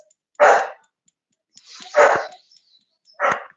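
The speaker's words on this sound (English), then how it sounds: "I don't know what she's even barking at." A female dog barks three times in separate loud, close bursts, evenly spaced with silence between them, a low growl leading into the second bark, heard alone without talk.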